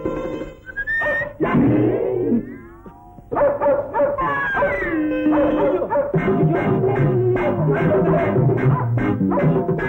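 A dog barks and whimpers in a dramatic indoor scene, a run of sharp repeated yips and whines that come close and loud, with a whistling tone early on and no talking over them.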